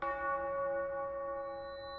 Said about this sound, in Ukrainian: Дзвін бив.